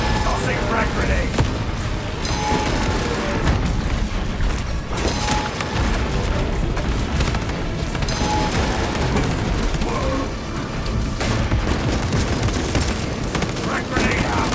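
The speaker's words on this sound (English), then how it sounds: "Tossing frag grenade." Frag grenade explosions and heavy combat in Warhammer 40k Space Marine 2, a dense, loud, continuous wall of booms, gunfire and crashes with no letup.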